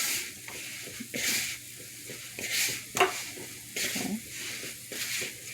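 A hand working flour together in a bowl for dumplings for a coconut rundown gives off rhythmic, close swishing and scraping bursts about once a second, with one sharper knock; a voice says a brief word.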